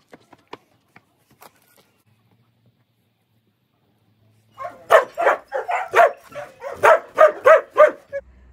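A dog barks repeatedly in a rapid, loud burst of eight or nine close barks at a farm, following a few faint clicks and a quiet stretch.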